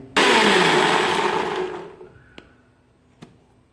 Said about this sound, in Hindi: इसके बाद इसका ढक्कन लगा दीजिए और ढक्कन लगाने के बाद अब अपनी मिक्सी को ऑन कर दीजिए।